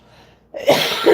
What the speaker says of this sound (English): Excuse me, it's the flour. I'll start sneezing shortly.